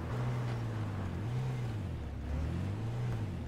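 A vehicle engine in the H1Z1 battle royale game drones steadily at low pitch, its tone rising and falling gently as it revs, moderately distant and continuous with no talk.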